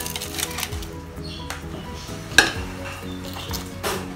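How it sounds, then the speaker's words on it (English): Chicken feet, swordfish and deep-fried fish bones go into a stock pot for Singapore-style seafood soup, giving a few close metallic clinks and knocks of pot and utensils, one sharp clatter in the middle, over a low background hum. "I'm throwing in the chicken feet first. The swordfish as well as the fish bones,"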